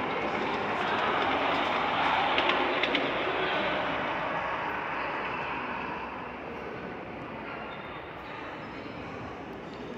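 A continuous, loud rumble of a train rolling past nearby at a railroad museum, steady broadband roar that slowly eases off toward the end, with no voices.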